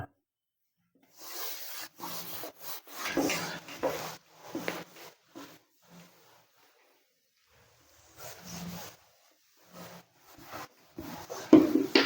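A board being erased by hand during a physics lesson, soft rubbing strokes in short bursts separated by silent pauses, close and fairly clear, with no talk over them.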